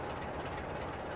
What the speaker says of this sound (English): Well, there goes an HST.